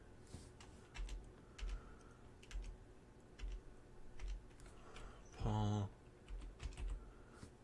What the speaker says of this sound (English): If I could type correctly.